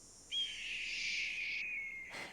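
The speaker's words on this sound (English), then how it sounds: "Classic eagle sound. Always actually a red-tailed hawk." A red-tailed hawk's call in the Nancy Drew game Ghost Dogs of Moon Lake: a single long, clear, high screech that holds steady for nearly two seconds and then stops, heard alone over faint background hiss.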